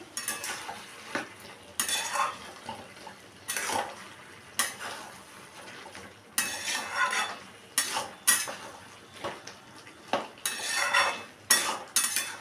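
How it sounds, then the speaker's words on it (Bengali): A fish and mixed vegetable curry made with dried fish is stirred in a pot, giving repeated scraping and clinking bursts of a utensil against metal. The strokes come in an irregular rhythm, close and moderately quiet. "সামান্য একটু চিনি দিলাম দিয়ে আবারও এটা ভালো করে আমি মিশিয়ে নিচ্ছি"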